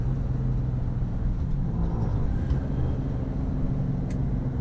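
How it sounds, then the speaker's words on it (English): A 1964 Chevy car engine rumbles steadily from inside the cabin as the driver downshifts, a low continuous drone with slight shifts in pitch and no talking. "You want to have a little fun, you can downshift."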